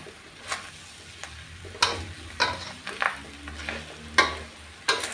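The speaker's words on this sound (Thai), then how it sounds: "ขอผัดให้ทุกอย่างเข้ากันก่อนนะคะ" Vegetables and tomato being stir-fried for fried rice with fermented pork sausage and egg, a soft steady sizzle broken by a few sharp scrapes and taps of a spatula against the pan.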